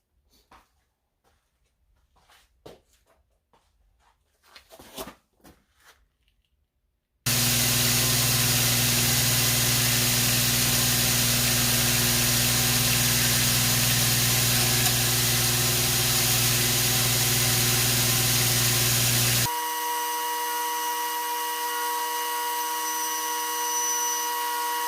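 An angle grinder or power tool grinds the bevel into a handmade karambit blade, starting after quiet tapping and handling noises, then running as a loud steady whine for about twelve seconds before shifting to a thinner, lower-pitched hum.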